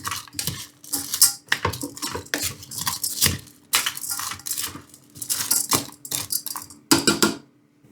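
Cabbage, peas, tomatoes and mushrooms are stirred in a pan with a utensil, giving a run of close, irregular scraping and clattering strokes broken by short pauses. Nobody speaks.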